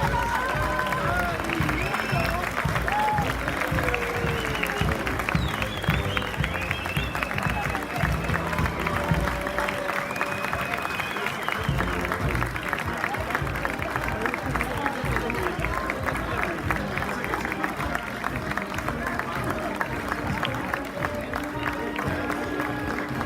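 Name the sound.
applause for a brass band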